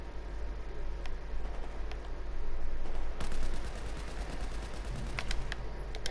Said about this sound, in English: the sound of the weapon is so sick